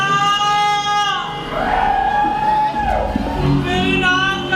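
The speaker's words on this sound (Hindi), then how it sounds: "चीखने और चिल्लाने की आवाजें कैसे आ रही है?" A woman playing Shurpanakha screams and wails on stage in a Ramlila play, her high, wavering cries rising and falling, with crowd noise and shouts beneath.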